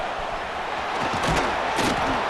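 Dense stadium crowd roar from a College Football 26 game featuring Alabama, a steady broad wash of cheering that swells slightly midway, with no clear talk over it.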